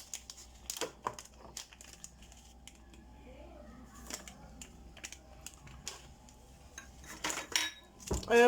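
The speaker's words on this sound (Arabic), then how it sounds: "دابا غنطربو غير بالطراب اليدوي" A hand whisk beats a cake mixture in a bowl with irregular clinking taps and scraping strokes against the side, close and fairly quiet, with brief pauses between bursts.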